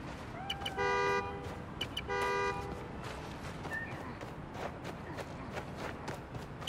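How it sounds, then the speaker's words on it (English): In the Spider-Man Miles Morales video game, a car horn sounds twice in sustained honks about a second apart, heard clearly over street ambience and footsteps, then the street noise continues alone. "Find the horn, find the car."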